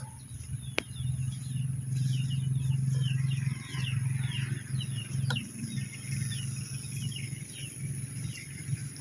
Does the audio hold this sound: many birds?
yes